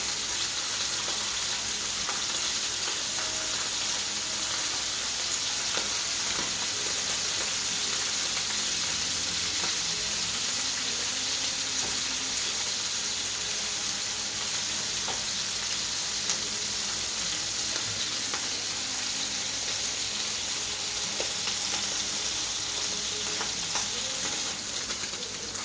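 Escoveitch sprat fish browning in oil in a pot, a steady, loud, hissing sizzle with small crackles that holds evenly throughout, with no voices.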